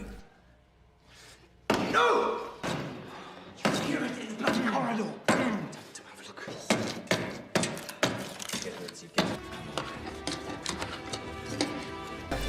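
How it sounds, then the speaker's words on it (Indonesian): A wooden door frame is broken with a chisel in a prison-escape film scene: a string of loud, sharp thuds and knocks of uneven rhythm, with voices and other movement noise around them. "Akhirnya, Leo merusak kusen pintu dengan pahat."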